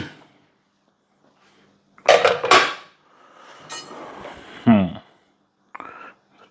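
A metal pot holding chicken steamed for about 15 minutes is opened in a home kitchen: a couple of clattering lid and pot knocks, then a scraping clink, with talk in between.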